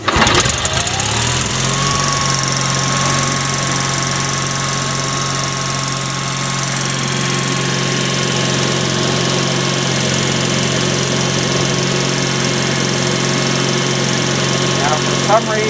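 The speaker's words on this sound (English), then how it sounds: "So now let's try a start test of the generator." An Onan OTC-33 6 and 12 volt generator cranks over and catches, then settles into a loud, steady running drone close by, holding an even hum to the end, with some talk over it.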